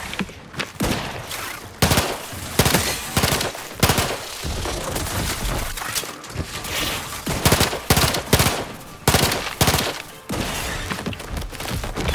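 Repeated bursts of gunfire in the video game The Outer Worlds 2, loud and close, coming in rapid irregular volleys with short gaps and some impact thuds.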